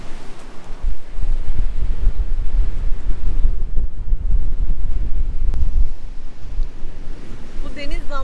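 Strong wind buffets the microphone in loud gusty rumbles at an exposed beach cove, with surf washing in beneath; the blustering eases near the end.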